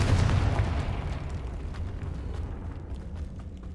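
A fiery Confringo spell explosion from Hogwarts Legacy bursts loudly at the start, then its deep boom rumbles and slowly decays over a few seconds with scattered debris crackles.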